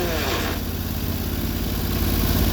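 The small engine of a Sears Suburban garden tractor runs steadily in low-range reverse, a close, loud, even mid-pitched chug with no change in speed over a couple of seconds.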